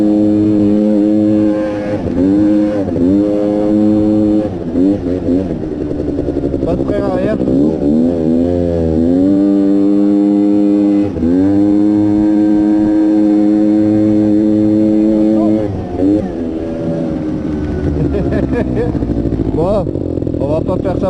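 A quad bike engine revs hard while the bike drifts. The throttle rises and falls in repeated surging sweeps, loud and close, and a voice talks over it at times.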